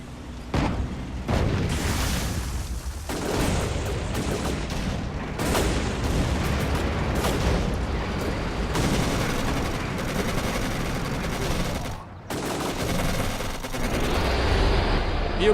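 Gunfire and artillery from the Codename: Panzer war game, with dense bursts of shots and booming blasts rolling continuously at moderate loudness, a voice faintly under the din.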